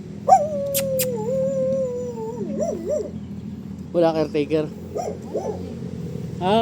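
A big dog on a farm in Tanay, Rizal, barks a few times and then whimpers and whines in drawn-out, wavering cries, close by, with a person speaking briefly.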